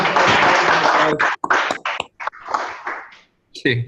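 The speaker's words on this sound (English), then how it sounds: "Round of applause." A small group gives a round of applause. A dense burst of clapping at the start breaks into scattered, uneven claps and trails off, with voices in between.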